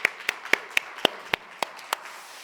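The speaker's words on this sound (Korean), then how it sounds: "박수 한번 올려드리겠습니다." During a church New Year's Eve service, clapping rings out as eight sharp, evenly spaced claps in a steady rhythm, close and distinct over a quiet background.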